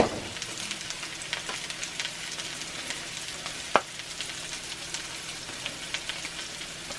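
Seasoned mushrooms fry in bacon grease in a cast iron pan, giving a steady close sizzle with scattered crackles and one sharp pop midway, and no talking.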